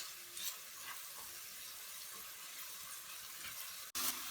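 Carrots cooking in a pan over medium heat for spicy chicken vegetable macaroni, giving a steady, soft sizzle throughout with a brief clatter near the end and no talking.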